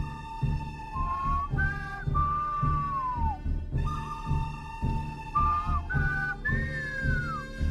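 A radio host's whistle plays sliding, bending melodic tones in several bursts over a low music bed, loud and close.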